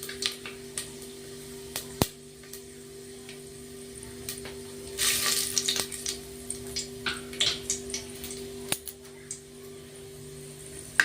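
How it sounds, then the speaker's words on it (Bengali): Whole cumin, cloves and black pepper sizzling in hot oil in a pan, a steady soft crackle with scattered pops and a brief louder hiss, no talking. "দেখুন বন্ধুরা মশলাটা ভালো করে ফুটে গেছে।"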